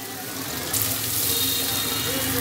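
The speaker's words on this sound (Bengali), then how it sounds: "এখন এই পেঁয়াজের সাথে চিংড়ি মাছগুলো আমি একটু হালকা বাদামি কালার করে ভেজে নিব।" Prawns fry with onions in a pan to a light brown, making a dense, constant sizzle with some watery bubbling. A brief spatter flares up near the start.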